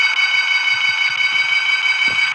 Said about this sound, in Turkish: Alarmı koşuram dostlar.